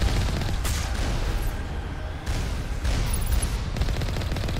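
Gun turrets firing in the video game Mass Effect 1, a dense continuous barrage of loud rapid shots and booms, close and sustained throughout with no talk.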